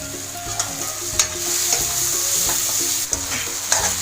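Chopped tomatoes fry in a pan for sambar on a lowered gas flame, with a steady close sizzle and repeated scraping spoon stirs that clack against the metal.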